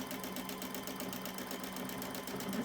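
A sewing machine stitches a fabric bowl cozy, its needle running in a steady fast rhythmic whir throughout, close and continuous with no talking.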